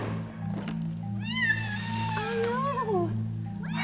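Several of the seven rescued cats meow and caterwaul in turn over a steady low hum, with rising and falling cries close by.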